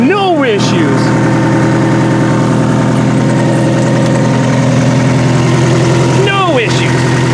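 A Toyota Camry's engine idles loud and close in an even, continuous drone with a low hum and steady harmonics, while brief chirping squeals rise at the start and near the end.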